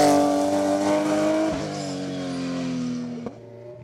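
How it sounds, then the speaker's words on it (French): A Porsche 991 GT3 Cup race car climbs the Col Saint Pierre hillclimb, its engine a loud steady roar with strong harmonics that shifts pitch at a couple of gear changes, heard alone without talk. "Jean-Marc Gandolfo, termine 4e du GTTS 4 et 8e du classement général de l'épreuve sur sa Porsche 991 GT3 Cup."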